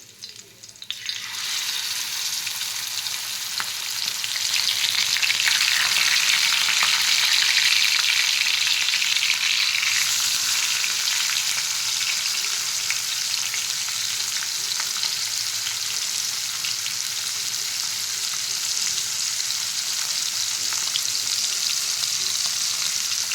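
Fish fries in hot oil with curry leaves in a pan over low heat, a dense, steady sizzling hiss that swells after the first second and holds evenly and loudly throughout.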